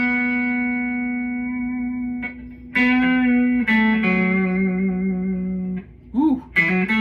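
Sustained notes and chords from a Fender American Professional II electric guitar ring out with effects and reverb, shifting pitch several times, loud and close, with a brief slide near the end.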